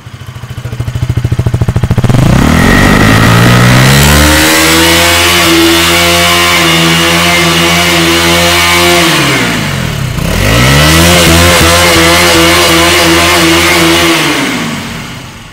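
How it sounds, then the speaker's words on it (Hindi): KTM RC 200 motorcycle exhaust revved hard, loud and close, rising through a long held rev, dipping briefly and then climbing again before easing off. "KTM RC 200 का एग्जॉस्ट नोट"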